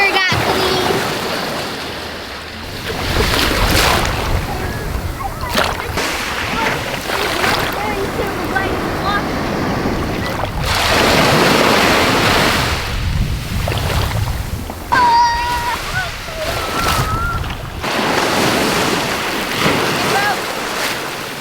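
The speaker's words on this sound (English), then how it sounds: "The waves destroyed it." Ocean surf breaking on a shore, loud and continuous with rolling surges and wind buffeting the microphone, while people call out and talk over it.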